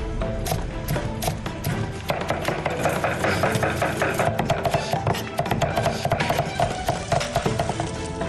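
Rapid, steady knife chopping of lotus root, taro, carrot and wood ear mushroom on a board, dense continuous strikes close up with faint kitchen clatter behind.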